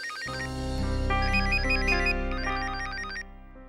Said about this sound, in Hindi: देख देख देख किसका फोन है